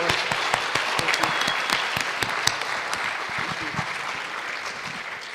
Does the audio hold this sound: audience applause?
yes